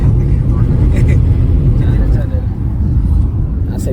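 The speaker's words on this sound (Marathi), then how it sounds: "आपल्याकडे टाटाची गाडी, टाटा नेक्सॉन." A Tata Nexon driving toward Ganpatipule in the Konkan region, heard from inside as a loud, steady low engine and road rumble running under continuous talk.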